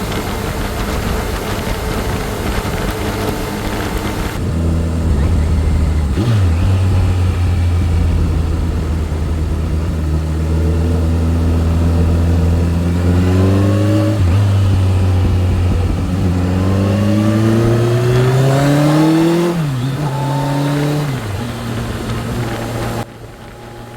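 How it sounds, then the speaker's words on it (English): Kawasaki Concours 14 motorcycle cruising down a highway at night, engine drone rising and falling through several gear changes amid steady wind rush, heard close and loud without talk. "listen to the sound of just this thing ripping down the highway"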